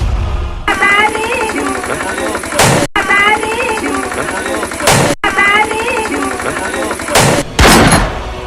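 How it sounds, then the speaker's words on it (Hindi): Celebratory gunfire at a wedding in Gaya, Bihar: a few loud, sharp bursts, at three or four points, cut through continuous singing and voices from a nearby crowd. "तभी तड़तड़ाने लगी बंदूक।"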